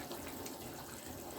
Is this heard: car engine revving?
no